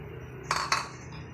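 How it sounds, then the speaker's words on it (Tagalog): Potatoes go into a pot of nilaga bone-broth stew with tender meat, making two quick close clinks and clatters against the pot about a fifth of a second apart in an otherwise quiet kitchen. "ilagay na natin ang patatas."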